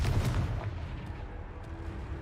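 A Confringo fire-spell blast in the Hogwarts Legacy video game lands as a deep, booming burst at the start, then fades into a quieter rumbling tail.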